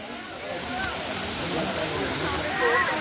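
Katiki waterfall near Araku, a steady broadband rushing roar of falling water that swells slightly toward the end, with people talking over it.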